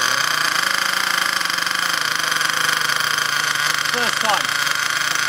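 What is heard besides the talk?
Ansmann Virus 2.0 RC car engine starting and running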